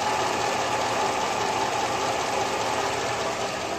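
A truck engine fitted with Comp Cams Evolution lifters idles steadily, a continuous mid-pitched drone with a faint ticking texture, heard from a short distance with no voices.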